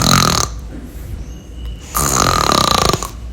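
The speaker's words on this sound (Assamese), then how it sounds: "আমাৰ নাকৰ পৰা শব্দ ওলায়, যিটো আমি মেডিকেল ক্ষেত্ৰত স্ন'ৰিং বুলি কওঁ" A person snores in two loud, rasping pulses, with a quieter breathy gap between them, heard up close.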